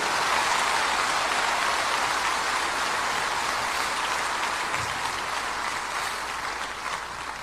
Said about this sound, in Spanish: Dele ese aplauso con júbilo.